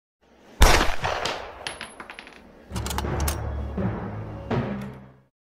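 Gunfire in an action movie scene: a sharp crack, then a scatter of metallic clinks and knocks, and later a second burst of heavy, rattling impacts with clattering debris, loud and close, with no voices.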